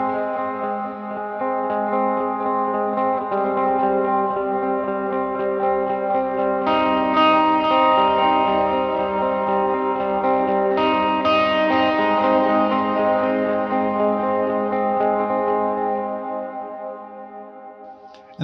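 Electric guitar plays through effects, sustained chords washed in echo, chorus and light distortion, ringing full and close, swelling midway and then fading out at the end.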